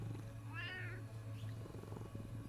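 A pet house cat gives one short, fairly clear meow over a constant hum and background sounds from a livestream setup.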